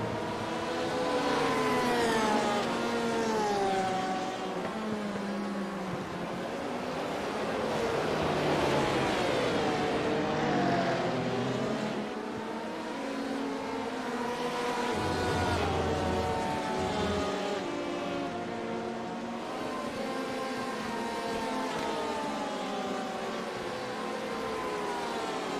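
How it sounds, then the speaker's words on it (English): Racing cars at Hockenheim in a sim racing video game scream past with rising and falling engine whines, several overlapping tones sweeping up and down through gear changes, with steady loud engine noise and no talk. "it's kind of nice just to listen to the cars for a bit"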